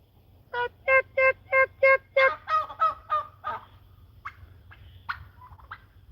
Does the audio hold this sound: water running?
no